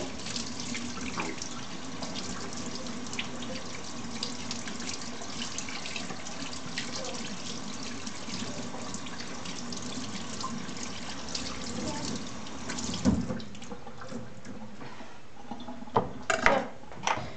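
Cold tap water runs in a steady, continuous stream while a cleaned sea pike is rinsed beneath it, with a few clattering knocks and splashes toward the end.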